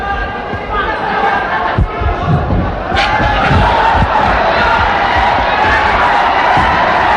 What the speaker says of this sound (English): The crowd egging on Pacquiao.